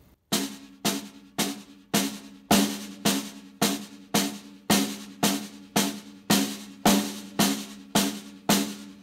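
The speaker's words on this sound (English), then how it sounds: "So it's basic sounds something like this, totally monotone on a snare drum." A snare drum plays an inverted double stroke and paradiddle rudiment in a steady, even, monotone pattern, about sixteen crisp, close strikes over nine seconds with no talking.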